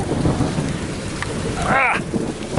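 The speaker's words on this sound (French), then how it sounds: "C'est un orage de fou." A heavy thunderstorm downpour in Cuba, a steady dense roar of rain with a brief rumble in the middle, close and fairly loud.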